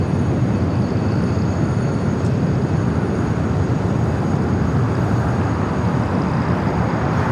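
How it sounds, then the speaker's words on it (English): A jet airliner taxis at LAX, its engines giving off a steady, continuous broadband roar with a faint high whine, holding an even level throughout with no talk. "She's starting her taxi now."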